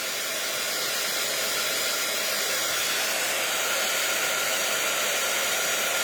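A heat gun blows steadily while melting embossing powder on a paper craft piece, giving a loud, even, unbroken rushing hum at close range with no talk.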